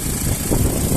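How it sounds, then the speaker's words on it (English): A Ford Fiesta 1.6 Ghia petrol automatic hatchback with 54,000 miles idles with a steady, smooth engine rumble, close and even throughout. "Engine sound nice and smooth"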